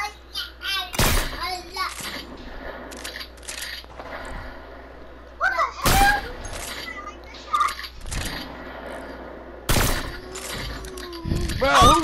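Sniper gunfire in the video game Fortnite, several sharp, loud single shots spaced apart across the span, mixed with game effects and a voice talking over it.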